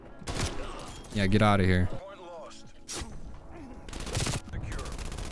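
Gunfire bursts in the Call of Duty: Black Ops Cold War multiplayer video game, loud rapid fusillades and thuds mixed with frequent overlapping talk from a player.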